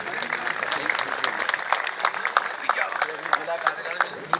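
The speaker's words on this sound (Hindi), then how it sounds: "तालियां बजाइए भाई।" Audience applause at an award ceremony during the Kshatriya Mahasabha annual function in Jaspur, Uttarakhand: a dense, steady patter of many hands clapping together, fairly close, with some crowd noise mixed in.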